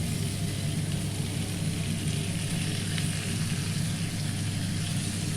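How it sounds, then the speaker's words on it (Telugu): Chopped tomatoes and onions fry in a pan for Punjabi-style butter chicken, giving a steady, even sizzle with a low background hum and no one speaking. "సో టమాటాలు వేసి ఒకసారి ఇలా తిప్పేసి మూత పెట్టేసి"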